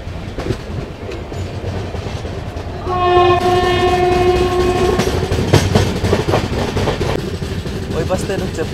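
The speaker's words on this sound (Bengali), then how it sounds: "আমার ট্রেন ছেড়ে দিল সাঁতরাগাছি রেলওয়ে" The Tamralipta Express pulls out of Santragachi station, a loud train horn sounding for about two seconds midway over steady rumbling wheels and clattering carriages, with voices talking nearby.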